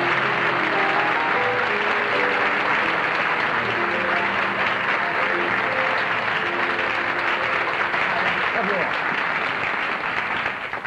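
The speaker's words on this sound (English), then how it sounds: "Are you applauding because you wanted to?" Studio audience on a late-night television talk show applauding warmly for comedy writer and actor Carl Reiner, a steady, dense wash of clapping that stays loud and unbroken throughout, with faint murmuring beneath.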